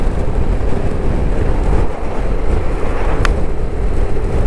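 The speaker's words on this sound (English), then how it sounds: "It's a bit windy" Wind gusting straight into the microphone on a cold, biting day during a ride to Knaresborough, a steady loud low rumble and buffeting that runs the whole time, with a brief thin tick near the end.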